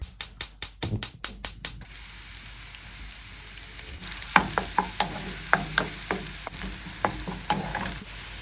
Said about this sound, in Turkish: Biraz da sıvı yağ aldım tavama. Bunları güzelce bir e, soteleyelim.